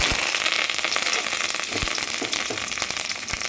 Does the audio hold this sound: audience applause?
no